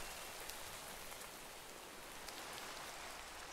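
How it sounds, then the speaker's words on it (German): Steady rain in the Minecraft video game, a constant soft hiss of falling drops that stays even throughout and plays alone with no talk over it. "Oh, es regnet."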